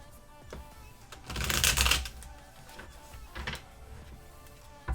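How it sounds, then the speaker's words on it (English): Tarot cards are shuffled close to the mic, a crisp riffling burst of papery flutter in the middle, with lighter taps and card slaps before and after. "Shuffle ASMR."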